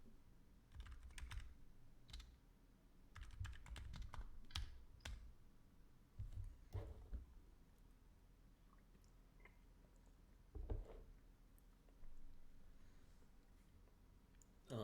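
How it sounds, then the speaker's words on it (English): Typing on a computer keyboard, with quiet, close clicking keystrokes in irregular bursts and short pauses and no talk. "and I will type that out"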